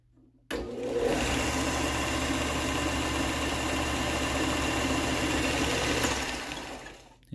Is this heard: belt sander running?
yes